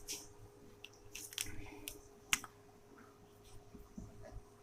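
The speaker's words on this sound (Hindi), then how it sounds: "तो यहाँ पे लिखेंगे" Pen writing on paper while working a class 10 coordinate geometry problem, with soft intermittent scratches and strokes close by in a quiet room, no talking.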